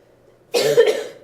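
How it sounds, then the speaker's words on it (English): A person gives a single sharp cough, loud and close, a short burst heard alone after near-silence. "I'm sorry, I'm coughing"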